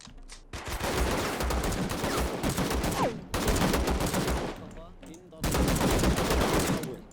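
Machine gun fire in the war game Call to Arms rattles in three long sustained bursts with brief gaps between them, loud and dense.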